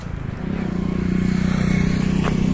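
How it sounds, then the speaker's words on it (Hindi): A JCB backhoe loader draws nearer with a steady, fairly loud diesel engine rumble that builds slightly, heard on its own without talk. "वो देख जेसीबी आ रही है बेटा"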